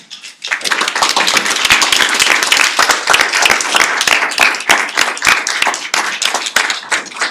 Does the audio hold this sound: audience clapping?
yes